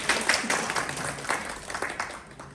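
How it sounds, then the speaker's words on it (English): A crowd applauds, a burst of clapping that swells and then thins out over a couple of seconds. "round of applause, round of applause"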